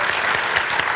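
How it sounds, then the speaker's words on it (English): An audience at a library panel discussion on post-truth politics claps for the two panelists, a dense steady burst of applause close by. "would you join me in applauding our two panelists?"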